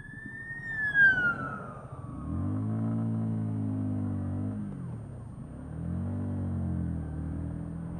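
An ambulance siren wails with rising and falling tones, fairly close, over the steady rumble of a motorcycle engine.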